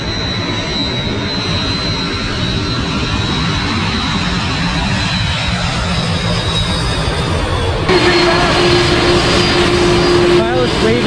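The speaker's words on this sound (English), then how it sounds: "The first aircraft that we're waiting for, it's the KLM from Amsterdam, and it's gonna be" A KLM Airbus A330-300 jet on final approach over Maho Beach roars loud and close, its engine noise building to a sharp surge with a rising whine near the end, while people talk and shout over it.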